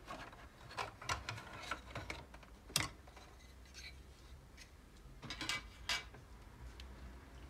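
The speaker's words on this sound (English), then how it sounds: "Remove this plastic part." A plastic part being pried and pulled from a Dell Optiplex small-form-factor desktop during teardown, with faint, close clicks, snaps and scraping in scattered bursts, and a few sharper cracks over a quiet background.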